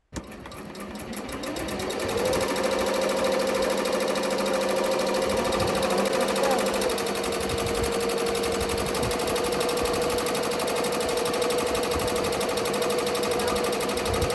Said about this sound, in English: those were my first stitches ever with my RICOMA Marquee 15 needle